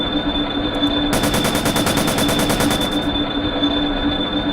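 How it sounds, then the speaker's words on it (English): A machine gun fires a rapid, evenly spaced burst for about two seconds over a steady droning background hum, then stops. "The gunfire resumed once again."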